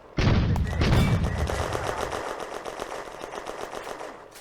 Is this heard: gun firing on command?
yes